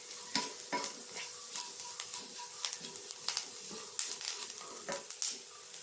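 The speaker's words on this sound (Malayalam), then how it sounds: "കുറച്ച് മഞ്ഞൾപ്പൊടി, സ്വല്പം മുളക് പൊടി, സ്വല്പം കുരുമുളക് പൊടി ഇത്ര ഇട്ടിട്ട് നന്നായിട്ടൊന്ന് ചൂടാക്കി എടുക്കുക" Turmeric, chili and pepper powder heat in a pan, giving a quiet sizzle under light, irregular stirring scrapes and clinks of a utensil against the pan.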